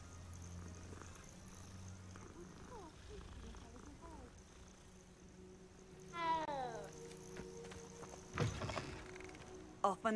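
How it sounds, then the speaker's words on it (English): A cat in the Hogwarts Legacy video game gives a rising, drawn-out meow midway, against a soft game ambience with a few faint thuds and a low purr-like rumble; no talking. "Oh, it's a cat. Pet the cat."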